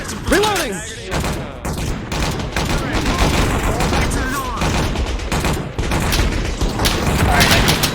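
Rapid gunfire rattles in bursts with booming impacts in a shooter video game, loud and dense throughout, while a voice talks over the action.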